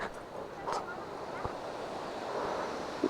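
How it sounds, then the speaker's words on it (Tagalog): Steady rushing of river water flowing far below a high bridge, a broad continuous wash mixed with wind noise on the microphone, fairly loud and unbroken throughout. "Agos yung tubig oh."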